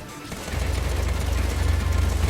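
Assault rifle gunfire in the video game Contra: Rogue Corps starts half a second in as a rapid, continuous rattle with a deep rumbling low end. It is loud and sustained to the end, with no talk.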